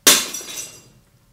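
A glass object breaks in one sudden loud shattering crash, close by, with a short ringing tail that fades in about a second.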